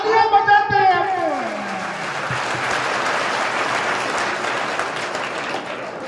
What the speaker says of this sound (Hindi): तालियां बजाते हैं आपको।